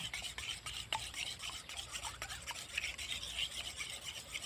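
Eggs beaten and mixed in a bowl, a steady rapid scraping whisk that runs continuously, close and fairly quiet, with no talk over it.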